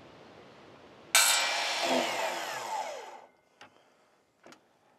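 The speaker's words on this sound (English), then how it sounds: "Great little saw for cutting these aluminum extrusions." A small power saw with a good blade slices through aluminum extrusions for rainscreen siding work, a loud sustained whine that starts abruptly, winds down after about two seconds, then two short bursts follow.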